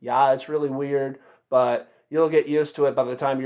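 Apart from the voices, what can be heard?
No distinct noise like a dog, phone or traffic.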